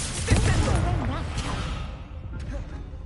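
Spell-casting blast effect from a wizarding duel video game, a fiery burst crackling and booming over dense game sound, with a character's shouted voice carrying through it.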